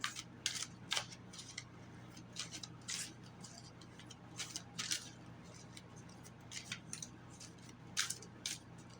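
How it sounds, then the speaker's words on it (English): Soft, repeated papery riffling and light taps of tarot cards being shuffled, in irregular bursts close by, with a steady low hum underneath and no talking. "Sorry, the shuffling does take a while."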